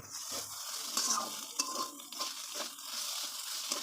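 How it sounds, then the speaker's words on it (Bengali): A coconut mixture stirred continuously in a pan, giving soft, steady scraping and a faint sizzle at low volume, with no voices. "এটা এখন বেশি কিছুক্ষণ নাড়াচাড়া করতে হবে, যতক্ষণ না নারকেলটা এটার সঙ্গে সেম কালার ধরছে ততক্ষণ"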